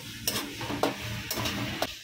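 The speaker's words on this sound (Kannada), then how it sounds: "ಕರ್ಬೇವಿನ ಸೊಪ್ಪು ಹಾಕಿದ್ದೀನಿ ಸ್ವಲ್ಪ." Curry leaves sizzle in hot oil in a frying pan while being stirred for a chicken dish, with four quick scraping stirs about half a second apart over a constant close frying hiss.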